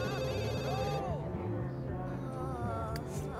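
A regular house phone ringtone from The Sims 3 rings in a clear, repeating electronic pattern near the start, then fades under steady game music and ambient background sound.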